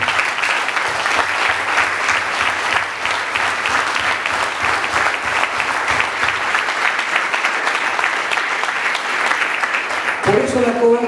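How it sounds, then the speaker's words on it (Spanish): A church congregation claps steadily and loudly for about ten seconds at a Spanish-language service, and a voice starts speaking right at the end. "un aplauso a Dios"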